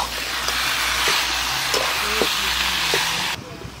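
Duck meat sizzles loudly in hot oil for a papaya duck curry cooked in a village kitchen. The frying hiss is close and steady, with occasional stirring clinks, then cuts off sharply near the end.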